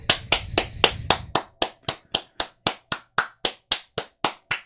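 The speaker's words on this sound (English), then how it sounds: "Everybody clap" A run of about seventeen sharp hand claps, close and loud, slightly busier at the start and then settling into an even, steady rhythm with no talking.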